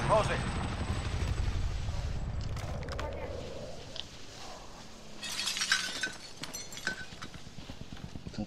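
In the Call of Duty video game, an inbound helicopter thumps with rotor chop in the background while game effects clatter and players talk over it.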